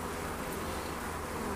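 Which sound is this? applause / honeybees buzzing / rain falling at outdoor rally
honeybees buzzing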